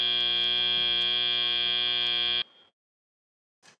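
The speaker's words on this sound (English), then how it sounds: "Beep." A loud, harsh electronic buzzer ends a robotics competition qualification match, blaring steadily for about two and a half seconds, then cutting off abruptly into near silence.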